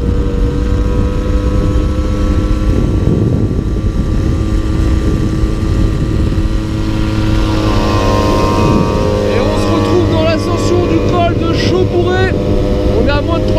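A Tomos moped engine labors uphill with a steady, loud buzzing drone that rises in pitch as it pulls. Other engine sounds mix in, and voices talk over it.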